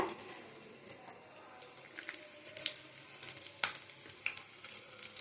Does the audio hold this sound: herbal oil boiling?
yes